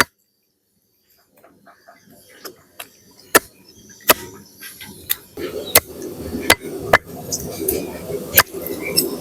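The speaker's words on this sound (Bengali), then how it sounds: "তো চিকেন গুলোকে সুন্দর করে পিস পিস করে কেটে নেবো।" Whole chicken being chopped into curry pieces outdoors in a village kitchen, heavy blade strikes landing irregularly and growing louder, with sharp thwacks over a busy background of voices and activity.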